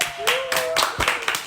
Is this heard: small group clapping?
yes